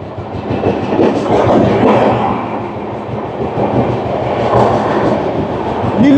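A Shatabdi Express between New Jalpaiguri and Howrah rolls through Liluah station, heard from inside a Vistadome coach: loud continuous rumble and rattle of the carriage with rhythmic wheel clatter throughout.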